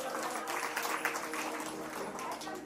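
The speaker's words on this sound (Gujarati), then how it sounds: "જોરદાર તાળીઓથી વધાવો." An audience at a Ram Katha religious discourse gathering claps continuously in a dense, even patter throughout the short stretch.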